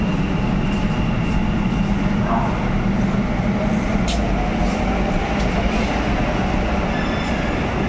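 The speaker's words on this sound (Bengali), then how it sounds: "দেখো মেট্রো ছেড়ে দিল।" A Kolkata metro train pulls out of the platform with a loud, steady rumble and faint wheel clatter, the sound filling the whole stretch without any talk.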